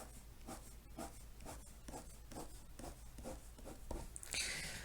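Close pencil or pen strokes sketch a repeated shading pattern on a graph, rhythmic short scratches about every half second, ending with a brighter brushing sound.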